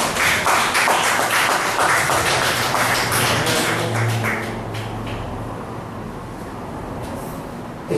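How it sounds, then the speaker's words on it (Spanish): Loud applause in a church, dense clapping that fills the room at first and then fades to scattered claps and murmurs. "¿Cuántos cuestan un aplauso fuerte al Señor?"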